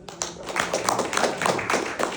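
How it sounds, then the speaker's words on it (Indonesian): A small audience at a technical seminar on gas field production claps briefly. About ten distinct, fairly close hand claps arrive in a loose, uneven rhythm with no talk over them. "Oke, tepuk tangan buat."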